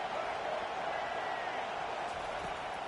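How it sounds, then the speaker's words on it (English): A stadium crowd roars at a football game, a dense sustained wash of cheering voices filling the space, steady and loud throughout the short moment. "Listen to this crowd just shaking the girders of this place"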